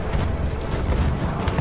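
Horse hooves clip-clopping across a Battlefield 1 multiplayer map, a steady loud patter of hoofbeats over low rumbling battle noise.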